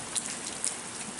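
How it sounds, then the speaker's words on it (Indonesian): Steady rain falling outdoors, a dense even hiss of drops on surfaces with a couple of slightly louder splashes, no voices. "Hujan berkat, tidak apa-apa."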